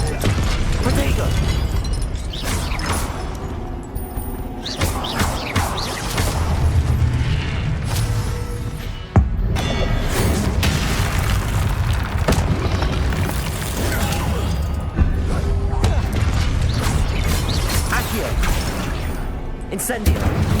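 Magic spell blasts from the Incendio and Confringo spells in Hogwarts Legacy, with booming bursts and crackling impacts layered over steady game action and a voice, continuous and loud.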